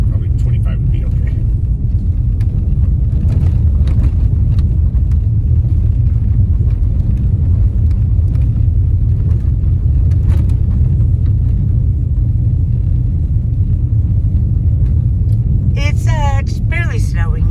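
An all-wheel-drive car travels a snowy highway between South Lake Tahoe and Reno in a blizzard, heard from inside as a constant low road rumble and engine drone throughout, with a brief higher sound near the end.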